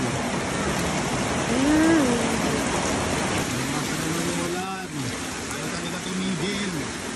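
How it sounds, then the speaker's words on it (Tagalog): Rain pours down during Typhoon Carina with a steady, wash-like hiss, while people talk over it throughout. "Yan, umulan na naman."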